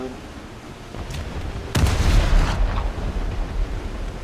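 A sudden loud naval cannon blast in the video game War Thunder, a sharp boom followed by a rumbling roar that fades over a couple of seconds.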